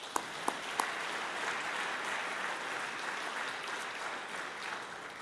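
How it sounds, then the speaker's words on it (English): Audience applause at an athletic hall of fame induction ceremony, a few distinct claps at the start then a steady wash of clapping, fairly distant and even. "So let's give Elise a round of applause"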